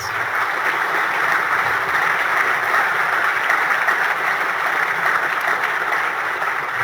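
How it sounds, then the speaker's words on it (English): A large audience applauds at the Australian of the Year awards ceremony, a continuous, even wash of clapping that stays level and fairly loud throughout, blurred into a broad hiss. "Ladies and gentlemen, a round of applause, please."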